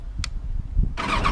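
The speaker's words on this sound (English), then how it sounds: "We'll run the bike now." A motorcycle engine cranks briefly and catches, a short low chugging followed by a sudden louder burst as it fires up near the listener.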